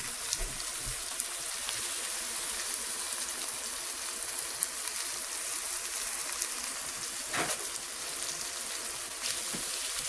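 Water poured into a hot pan of browning rice and noodles seasoned with sea salt hisses and sizzles steadily for about ten seconds, with a few sharp crackles and no talking.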